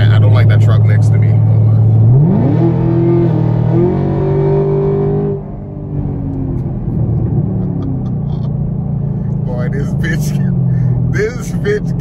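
A Chevrolet Camaro ZL1 is floored from inside the cabin, its engine note climbing in a loud, steady rise of revs as it pulls hard through a gear change, then settling back under road rumble.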